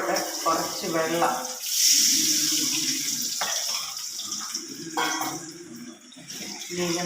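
Water splashes into a pan of lemon pickle (ginger, garlic and green chilli) being cooked, a loud continuous pour running for a few seconds in the middle of the clip, with clattering kitchen noises before and after.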